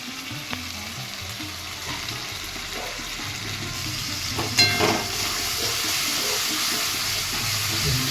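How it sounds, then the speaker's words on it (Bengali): Chicken pieces coated in biryani masala and ketchup frying in a pan for a homemade chicken curry, a steady close hiss and sizzle with soft stirring scrapes throughout and no talk. "মশলাটা কষা হচ্ছে।"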